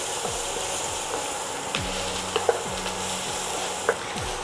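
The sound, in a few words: stirring sautéed onions and pepper in a pan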